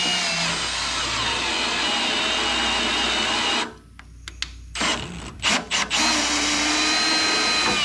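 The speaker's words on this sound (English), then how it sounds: "now I can run a tap through there and have a little bit of a material to tap some threads into" A power drill spins a tap to cut threads into a punched metal lip on an old Ford F350, a loud steady whine that stops, then returns in short bursts before running continuously again.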